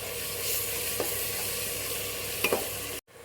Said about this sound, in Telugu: అల్లం వెల్లుల్లి పేస్ట్ బాగా వేగినాక